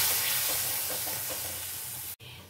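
Water splashed into a hot pan of sizzling fennel paste, a steady frying hiss with soft stirring scrapes that cuts off abruptly near the end.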